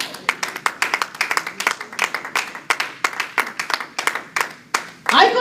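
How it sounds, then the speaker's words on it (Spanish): Congregation at a church service claps in response to the preacher, a brisk run of sharp, fairly close claps over several seconds that thins out before a short noisy burst at the end. "¿Cuánto le da un aplauso al Señor?"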